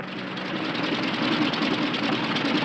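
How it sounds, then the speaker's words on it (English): Aircraft engine with engine trouble, a steady loud drone with a rough, uneven knocking throb that stays constant throughout, with no talk over it. "Engine trouble, sir."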